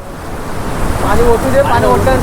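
Strong waves on a flooded river rolling and breaking nearby, a loud continuous rushing wash with wind buffeting the microphone.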